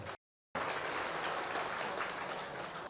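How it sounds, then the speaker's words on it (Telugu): Devotees at a Sai Baba temple in Chinthapalli clap together loudly in honour of the deity, a dense, continuous wash of applause after a brief silent gap, sustained and fairly distant. "ఆ బంగారు తండ్రికి ఒక్కసారి అందరం బిగ్గరగా చప్పట్లు కొడదాం"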